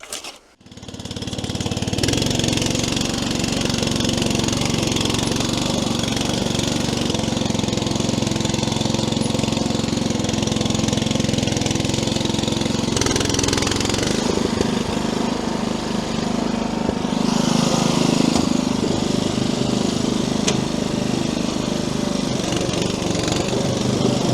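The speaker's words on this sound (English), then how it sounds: "that is the petrol version powered by the Honda engine" Honda petrol engine on a powered muck truck runs steadily and loud throughout, a continuous close mechanical drone with a slight shift in pitch partway through, no talking.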